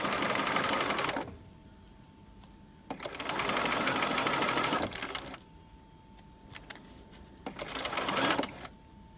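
A sewing machine stitches a trouser waistband in three steady, close running bursts separated by brief pauses.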